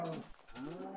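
A Minecraft cow lows in short, nasal bursts that swell and dip across roughly a second. The sound is close and moderately loud, with no speech over it.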